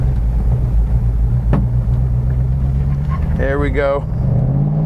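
A 1970 Plymouth Hemi Cuda clone drives and turns a loop. The engine makes a steady low rumble throughout, and someone speaks briefly over it.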